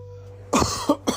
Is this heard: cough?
yes